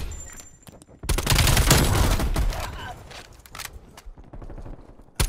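Rapid AK-74U gunfire in Call of Duty Black Ops, a dense burst of loud shots at close range followed by scattered single cracks and trailing rattles, with faint game noise underneath.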